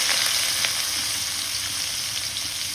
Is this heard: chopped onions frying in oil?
yes